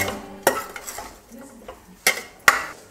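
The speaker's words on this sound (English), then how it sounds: "So I'm stirring it so that the seasoning can get in, can easily, evenly mixed." Beef and seasoning stirred in a pan with a metal utensil, soft scraping under a quiet sizzle, punctuated by three sharp clinks of the utensil against the pan.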